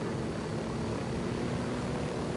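A helicopter flies in Ghost Recon Wildlands, a constant dense rotor and engine roar that stays steady throughout with no voices.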